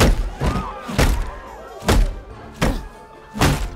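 Hammer blows in a film scene, about five heavy, dull thuds landing at uneven intervals, each one loud and close with a deep booming impact.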